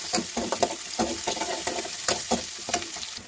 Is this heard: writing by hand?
no